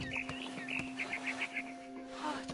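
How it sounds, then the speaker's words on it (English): A barn swallow chirps in What Remains of Edith Finch, a series of short, bright repeated calls in quick succession over a steady ambient hum, fairly close and moderately loud. "Then I heard chirping outside my window. It was a barn swallow going back to her nest."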